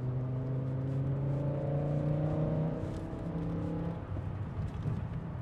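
A BMW M5 engine drones with steady harmonic tones while driving hard and drifting, the pitch shifting as revs change before settling into a rougher, lower rumble.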